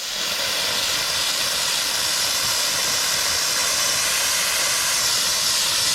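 Compressed air blasting steadily across the interior of a Silverado pickup during detailing, a loud, continuous close-up hiss with no breaks for several seconds.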